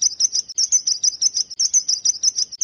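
A sparrow chirps in a dense forest, a steady run of quick, bright chirps and tweets in rapid repeating bursts, close and clear with no other sounds.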